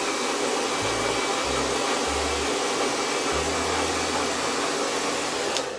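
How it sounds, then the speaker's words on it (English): A twin turbo blow dryer runs loud and steady at close range while drying freshly trimmed hair, a constant airy roar with slight shifts in pitch as it moves, and no talking. "This twin turbo blow dryer, by the way, is my all-time favorite blow dryer"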